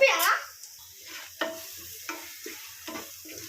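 Eggs fry with rice in a pan for egg fried rice: a brief loud hiss at first, then quieter sizzling under a handful of spaced spatula scrapes and taps, close up and without speech.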